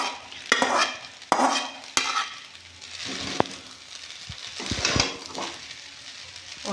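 Paneer being stirred and mixed in a pan for paneer matar pulao, with sharp spatula knocks against the pan over a low, steady frying sizzle. The sound is close and there is no talking.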